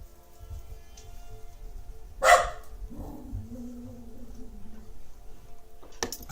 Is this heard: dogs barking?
yes